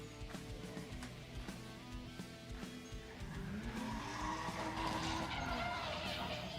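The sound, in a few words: drift car sliding with tire squeal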